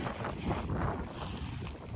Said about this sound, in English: Pardon the wind, guys. It's getting up today.